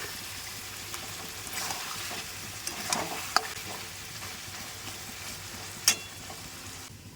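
Chicken meat cooks slowly in a pot at a home picnic. There is a low, steady sizzle and bubbling, broken by occasional soft stirs and a couple of brief metallic clinks.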